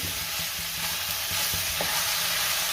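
Okra being stirred with salt in a frying pan, a steady sizzle with soft scraping strokes and a few sharper taps from the spatula, continuous and close with no voices.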